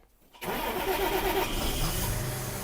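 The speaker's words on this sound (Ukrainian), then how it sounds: "спробуємо зараз е, запустити двигун" A John Deere 6210R tractor's diesel engine turns over and catches after a brief quiet moment, then settles into a loud, steady, close idle that fills the rest of the stretch.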